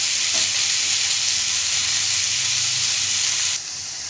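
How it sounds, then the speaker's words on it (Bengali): Sliced onion and cabbage fry in a pan with a steady, loud sizzle and hiss that never lets up. Near the end it drops a little in level. "সেটা দিয়ে দিলে এর মধ্যে এটা ভেজে নেব পেঁয়াজের সঙ্গে।"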